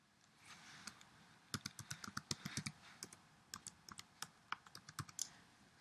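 Someone typing a simple program on a computer keyboard in the VI editor, with soft keystrokes falling in quick irregular bursts and short pauses, close but fairly quiet, with no voices.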